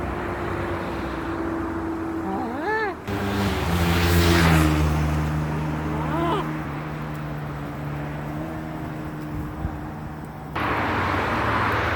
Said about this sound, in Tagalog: yung ingay ng mga sasakyan kasi ayan, nasa tabi kami ng highway.